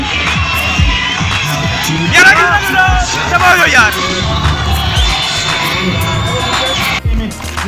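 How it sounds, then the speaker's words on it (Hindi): Rally awards crowd cheering and applauding for the second runner-up, loud babble with whoops and yells, and a few voices talking through the noise. "बहुत सारी भरपूर तालियों के साथ फलक"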